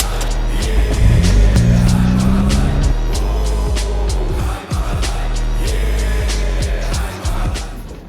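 The freshly repaired engine of a mud-splattered car runs loud and close, with a rising rev early on and then a rough, steady roar broken by brief dips, and no one talks over it.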